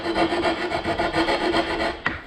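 An MDO plywood sign being hand-sanded, a rhythmic back-and-forth rasping and rubbing in quick regular strokes close by, ending with a brief knock.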